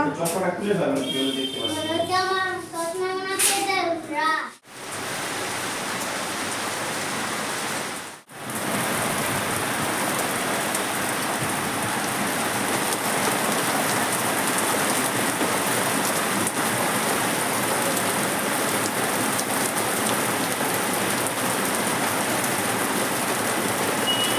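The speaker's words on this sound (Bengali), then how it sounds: "দেখুন অঝরে বৃষ্টি এসে গেছে" Heavy rain pours down in a steady, dense roar seen from a rooftop. A person talks briefly at the start, then the downpour carries on loud and unbroken for the rest.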